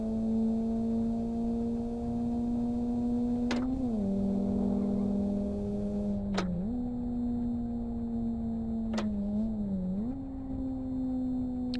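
A modded Ford Focus with the Trend X mod drones steadily in the racing game Live for Speed. The engine tone dips briefly three times as the gears shift, then holds its even hum.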